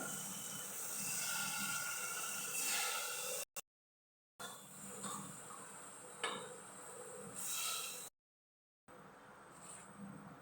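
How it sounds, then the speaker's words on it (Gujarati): Boiled dal simmers in a pan after a double tadka tempering with garlic, ginger and green chilli paste, giving a faint, steady bubbling hiss with brief dropouts and no voices. "જો ઉકળે છે દાળ"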